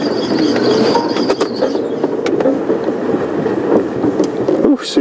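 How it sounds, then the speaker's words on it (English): A safari vehicle's engine whines steadily while driving on a bumpy stretch of road, loud and close, with rattles and knocks from the rough ride and a brief drop near the end. "switching off the car gives us some blessed relief from that whine"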